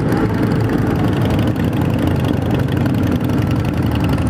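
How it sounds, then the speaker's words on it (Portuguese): A Harley-Davidson motorcycle engine idles close by with a loud, steady low rumble that continues without a break. "Escutando o som da Harley aí"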